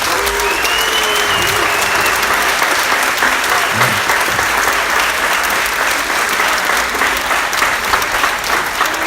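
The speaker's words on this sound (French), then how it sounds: "je voudrais vraiment qu'on fasse un hurrah d'applaudissements à tout ce comité des fêtes" A crowd at a patronal village festival in Puget-Théniers gives a long, loud round of applause for the festival committee. Dense clapping runs throughout, with faint voices mixed in.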